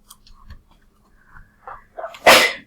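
A single sharp sneeze bursts out in a classroom during an algebra lesson, coming after a few seconds of faint shuffling and breathing and standing out loudly near the end.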